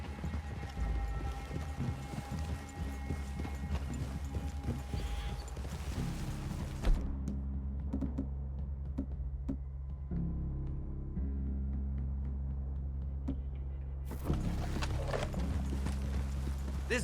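Horses plod along at a walk in the Red Dead Redemption 2 video game, with steady soft clip-clop hoofbeats and creaking tack under ambient outdoor sound, fading briefly midway before resuming.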